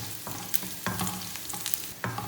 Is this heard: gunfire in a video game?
no